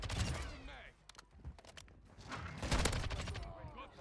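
Bursts of rapid full-auto fire from an SO-14 rifle in Modern Warfare 2, close and sharp, separated by brief pauses with faint footsteps and movement between volleys.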